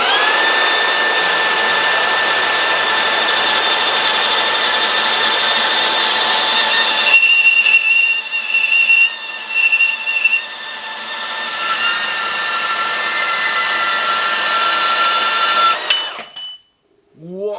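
A Bosch GCB 18V-127 cordless band saw, set to speed 6, cuts through 40x40x4mm steel L-angle with a loud, steady whine and a metallic ringing tone that wavers midway, then stops near the end.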